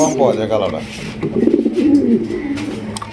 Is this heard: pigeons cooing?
yes